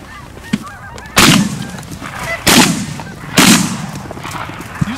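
Three loud, booming shotgun blasts fired at ducks on a northern Canada hunt, spaced about a second apart, each ringing out over a background of honking geese and waterfowl calls.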